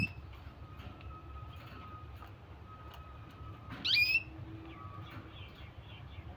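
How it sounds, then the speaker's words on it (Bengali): A caged bird gives thin, sparse calls, then a sharper, brighter burst of chirping near the middle, all fairly faint against a low hum. "প্রথমে ডাকছে তার স্বাভাবিক ডাক, এখন ডাকছে সেটা অন্যরকম।"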